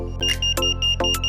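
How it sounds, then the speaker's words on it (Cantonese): An AI fall-detection alarm app sounding off: a sharp electronic beep pattern repeating rapidly, several tones in quick succession, loud and close over a steady low hum. "App 發出跌倒警報"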